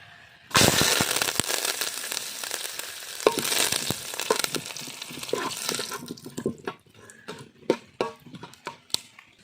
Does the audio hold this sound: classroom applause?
no